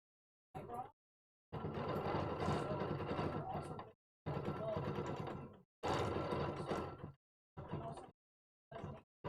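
A Bernina sewing machine runs in several bursts of stitching separated by short pauses, fairly close and moderately loud, with longer runs in the middle and brief spurts toward the end.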